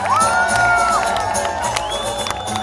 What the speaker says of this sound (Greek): Παρακαλώ, ένα μεγάλο χειροκρότημα για τα παιδιά μας.